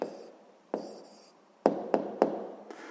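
A pen scratches out an answer on paper, a few short strokes and quick taps spaced irregularly, close and quiet with no talk.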